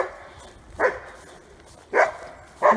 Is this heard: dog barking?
yes